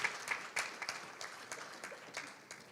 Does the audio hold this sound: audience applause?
yes